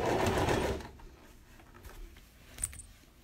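A sewing machine runs a steady stitch along face mask fabric, loud for under a second, then stops, leaving faint handling clicks and a brief rustle.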